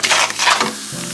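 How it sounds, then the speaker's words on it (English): Beef mince hits a very hot pan over high heat and sizzles loudly at once, a dense, close frying hiss with stirring scrapes that eases into a steady sizzle. "Heat a pan over high heat until very hot. Add beef mince in."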